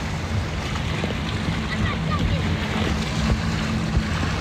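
A boat out on open water, with steady broadband wash of waves, wind and engine rumble running continuously throughout, loud and close, with no clear talk over it.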